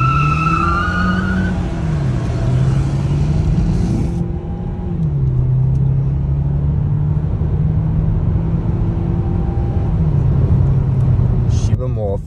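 A KMC J7 car accelerating from a standstill toward 100 km/h with ESP switched off and no launch control, its engine note rising and shifting through gears over a steady rumble of road and tire noise.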